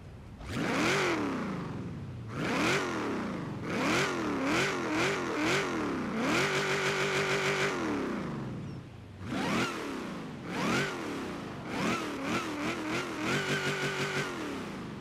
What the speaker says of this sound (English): Just the deep grumble mixed with the supercharger whine is incredible